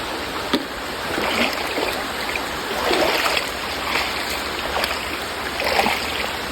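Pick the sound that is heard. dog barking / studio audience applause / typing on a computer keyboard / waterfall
waterfall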